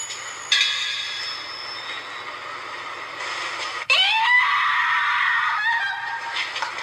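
A female reporter in ghost footage lets out a sudden, piercing scream that sweeps upward in pitch and holds loud and shrill over a steady background hiss, cutting in abruptly after a quieter stretch.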